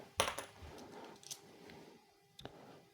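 Euro coins are handled and dropped while being sorted. Close metallic clinks and a sharp drop land near the start, a softer clink follows later, and quiet shuffling fills the gaps.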